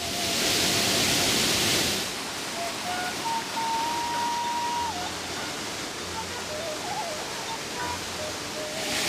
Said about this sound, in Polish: Tu płynie dość spory strumień i teraz na drugą stronę muszę się przedostać.